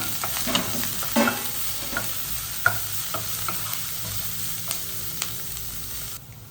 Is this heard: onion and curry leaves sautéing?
yes